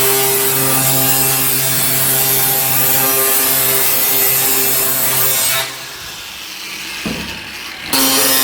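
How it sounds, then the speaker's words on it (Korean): An angle grinder cuts through a bathroom ceiling dome panel, a loud continuous whine with steady harmonic tones for several seconds before the cut ends and the noise drops away, followed by brief scraping and a final burst. "특별히 이거를 커팅할 때는 그라인더로 자르는 걸 보여드릴게요"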